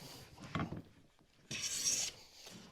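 A Chinese hand plane cuts thin wood shavings, giving a short rasping scrape followed by a louder, longer hissing stroke, close by and without talk.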